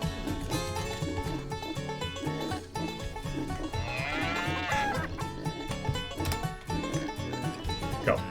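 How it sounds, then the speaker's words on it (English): Farm animals, pigs and cows, in the video game Redneck Rampage: lowing and bleating calls rise over dense, loud game music, with one long wavering cry near the middle. "Got pigs and cows and"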